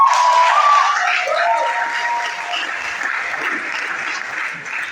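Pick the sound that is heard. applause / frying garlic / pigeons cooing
applause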